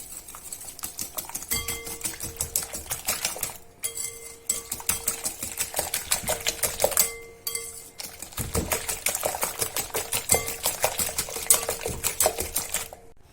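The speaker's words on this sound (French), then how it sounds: "dans un saladier, je mélange les œufs avec les 100 g de sucre" Eggs beaten with sugar in a mixing bowl for an apple tart, a fast steady whisk clatter against the bowl that runs nearly nonstop, close and fairly loud, with two short pauses.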